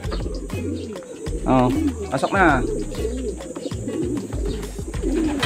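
Pigeons coo in low, repeated throaty bursts close by, with a person calling out and talking over them.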